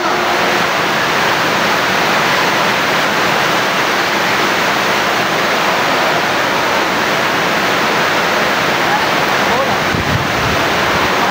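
Dense, steady hiss of heavy rain pouring continuously, loud and close, with a faint voice briefly under it.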